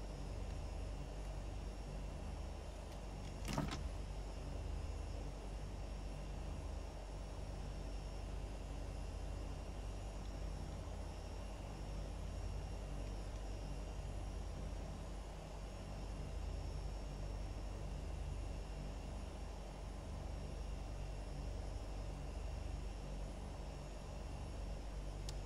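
A flight simulator airplane taxis toward runway 32 left at Toulouse Blagnac, giving a steady low engine drone with one brief sharp click early on. There is no talking.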